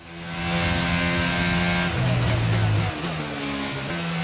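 Formula 1 race car in the F1 22 video game on the Abu Dhabi circuit, its engine note dropping in pitch as it brakes, loud and continuous, with engine tones shifting through the downchange.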